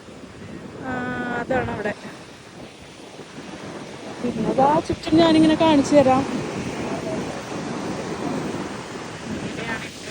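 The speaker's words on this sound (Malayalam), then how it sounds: "നല്ല തിര വരുന്നുണ്ട് കേട്ടോ" Sea surf and strong gusting wind at Munambam beach, a steady roar of breaking waves and wind buffeting the microphone, with a person talking over it.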